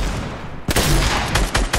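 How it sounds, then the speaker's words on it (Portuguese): Gunfire from the video game Fortnite bursts in after a quiet start, a sharp shot followed by a dense rapid volley with a few more loud cracks, close and loud over game noise. "Dá um tiro."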